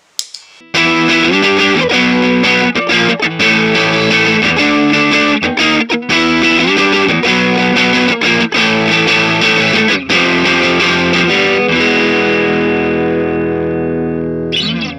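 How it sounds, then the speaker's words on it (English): Overdrive pedal stacked with a compressor on an electric guitar, strummed chords ringing loud and continuous with sustained, saturated tone that fades out at the end. "combine an overdrive with a compressor"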